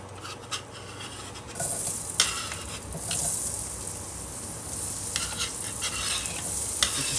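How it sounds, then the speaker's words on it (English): Onions sizzle and crackle in a hot frying pan, with a louder hiss kicking in partway through and occasional scraping stirs; no talking. "Get your sizzle going."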